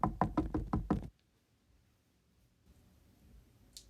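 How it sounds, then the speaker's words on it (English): Six quick, evenly spaced knocks on a door ring out loud and close, then stop abruptly, leaving near silence with only faint room noise. "And there's a knock on the door."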